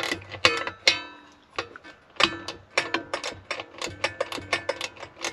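A small hand socket tool clicks and ratchets while tightening a fitting during a diesel heater install in a campervan, giving irregular sharp mechanical ticks in quick bursts, close and moderately loud with no talking.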